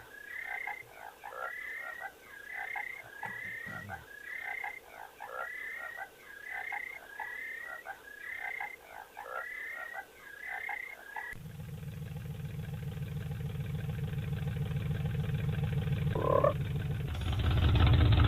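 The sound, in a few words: frog croaking in the video game Alone in the Dark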